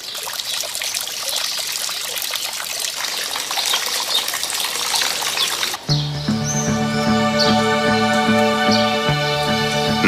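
Water trickles and splashes in the flower-filled patios of the Palacio de Viana in Córdoba, a steady close wash that shifts midway into a softer flow with birds chirping nearby.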